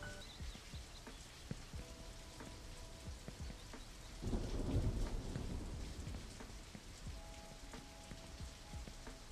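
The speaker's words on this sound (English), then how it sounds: "It's raining." Steady rain patters in the video game Only Up!, quiet and continuous, while a low rumble of thunder swells for about two seconds midway before the rain carries on alone.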